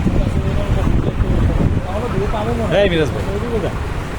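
A southerly wind blows across an open place near Cox's Bazar, rumbling steadily as buffeting against the microphone, while people talk nearby throughout.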